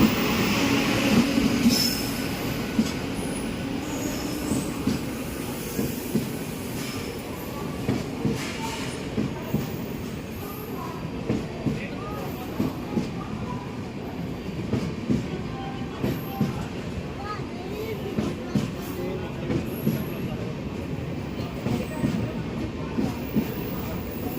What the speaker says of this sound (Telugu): ఈ ట్రైన్ వైజాగ్ నుంచి వస్తుందండి ఎక్స్ప్రెస్ అనమాట